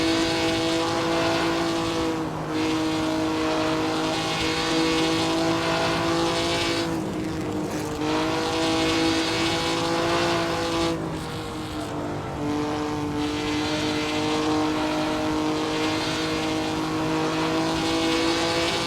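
Racing cars at the 1951 Spa Grand Prix roar continuously at close range, the engine notes rising and falling as they shift gears and pass, with no break in the sound.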